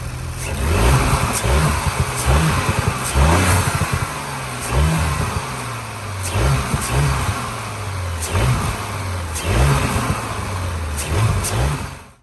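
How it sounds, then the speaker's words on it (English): An Audi B9 S4/S5 engine with its stock intake box revving repeatedly, about eight rhythmic throttle blips rising and falling over a steady idle, loud and close. "I'll go ahead and insert some before clips of the stock intake box and the sounds that it makes"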